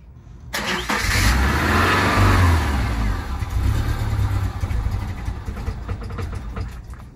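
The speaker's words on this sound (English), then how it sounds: "So I can turn on the car and it'll stay on. It just shuts off like right away." A 1999 Subaru engine cranks and catches with a loud surge, rising to a rev for a couple of seconds, then settling into a rough, uneven running sound that fades slightly without a clean idle.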